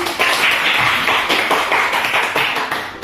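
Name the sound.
classmates clapping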